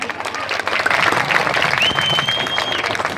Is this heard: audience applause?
yes